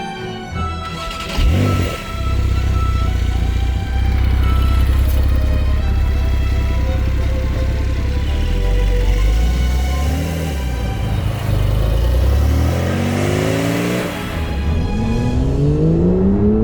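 A Porsche 911 Targa 4S Heritage Design Edition on the drive, its engine a loud, steady drone with rising revs and shifting pitch throughout, no talk.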